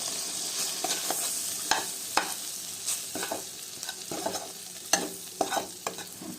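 Butter melts and sizzles in a pan on medium flame, with salt, pepper and chilli powder going in before tofu, a steady soft frying hiss broken by scraping stirs and light clinks close by.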